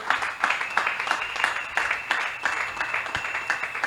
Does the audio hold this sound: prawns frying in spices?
no